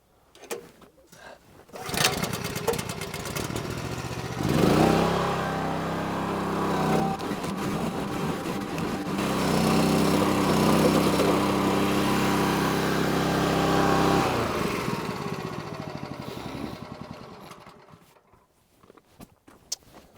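Split-Fire 4413 log splitter gas engine running steadily at close range, a continuous small-engine drone that starts up around two seconds in, holds for about fifteen seconds, then dies away to near silence.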